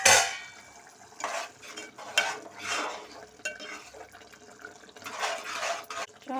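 A steel plate used as a lid is lifted off a pan of simmering egg and tomato curry, giving several soft metallic scrapes and clinks in quick bursts over a quiet kitchen background.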